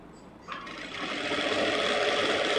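A sewing machine stitches a simple blouse, starting with a faint hum and rising after a moment to a steady, loud whirring run that builds slightly and continues alone.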